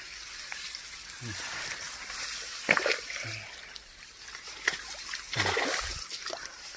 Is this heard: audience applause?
no